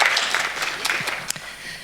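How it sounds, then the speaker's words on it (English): Brief applause from an audience at an international annual general meeting, a scattered patter of claps, moderately loud, with a little talk mixed in. "a big applause for the team from Brisbane"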